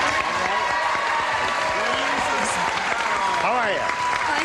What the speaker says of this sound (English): would you all join me in a brisk round of applause as I greet our two players here, Lisa Sparro